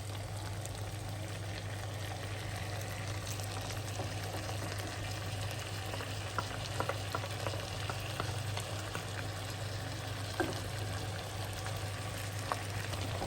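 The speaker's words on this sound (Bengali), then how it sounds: "এই তো চিকেনগুলো ভাজা হয়ে গিয়েছে, এখন বাটা মশলাগুলো এর মধ্যে দিয়ে দিচ্ছে" Chicken pieces frying in a pan as ground spice paste goes in, a steady low sizzle with occasional stirring clicks and scrapes, close and continuous, no voices.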